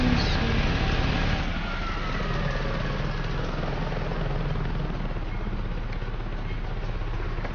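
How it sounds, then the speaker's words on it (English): A video game helicopter's steady rotor thrum and engine roar fill the whole stretch, loud and continuous, with no voices, in Saints Row 2. "Another helicopter."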